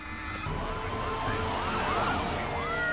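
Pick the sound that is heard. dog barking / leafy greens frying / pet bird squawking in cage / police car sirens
police car sirens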